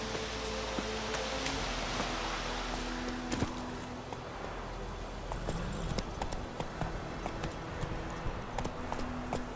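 Horse hooves galloping in The Witcher 3 video game, a steady rapid clatter blended with rain-like ambient wash, with several sharper knocks standing out in the second half.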